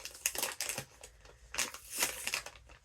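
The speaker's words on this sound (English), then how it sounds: "I am getting a little makeup remover wipe. That's the noise you are hearing," Makeup remover wipe rubbed between hands, a soft close crinkling and scrubbing in two short bursts, quiet with no talk.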